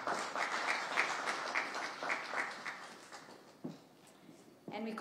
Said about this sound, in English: Let's give her a better clap.